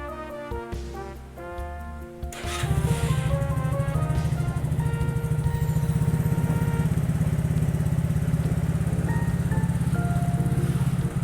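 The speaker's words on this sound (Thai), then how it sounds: "เดี๋ยวเรามาฟังเสียงท่อกันเลย" 2019 Lambretta V200 Special scooter with about 21,000 km, exhaust running after start-up; a steady, loud, even putter of the engine idling close by, following a few seconds of music at the start.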